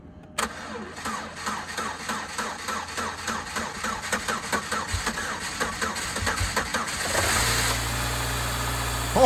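A truck engine cranks in freezing cold, around minus 15, powered by a CAT Power Cube 1200 jump starter: a steady run of rhythmic starter-motor cranking pulses that catches and settles into a loud, even idle near the end.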